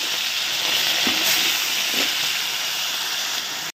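Fish sizzling in hot oil for a fish curry: a steady, close, broadband frying hiss that holds evenly for almost four seconds, with no talk.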